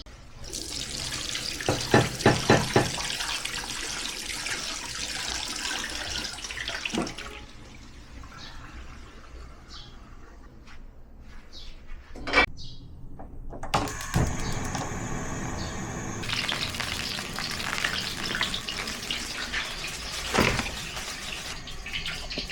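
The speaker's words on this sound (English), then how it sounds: "I'll soak them down a little longer after rinsing to wash off leftover pesticide residue" Tap water runs into a sink while fruit is rinsed and soaked, splashing in bursts with a quieter stretch in the middle before the flow resumes, close by with no talking.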